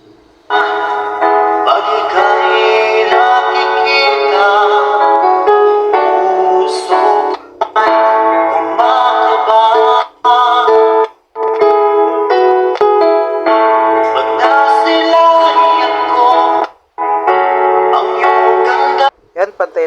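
A repaired Bluetooth amplifier, fixed after a leaky transistor distorted its left channel, plays music at full, steady volume during a sound test, with a few brief dropouts and no talk over it.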